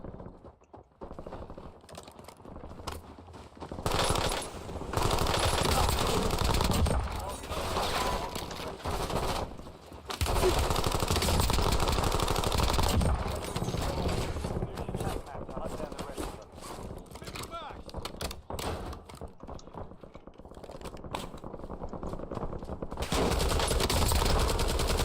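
Gunfire in the video game Warzone, with bursts of shots running through most of the stretch alongside other game sounds and intermittent talk from a player.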